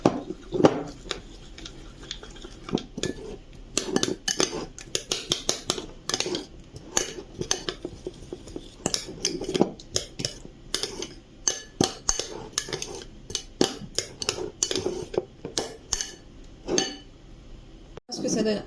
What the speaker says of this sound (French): Et on mélange le tout.